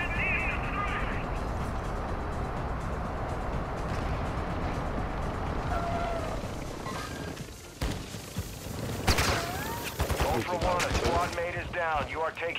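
Bursts of gunfire crackle across a busy Call of Duty DMZ battlefield, starting under a steady rumble and growing sharper and closer toward the end, with radio-style voice chatter mixed in.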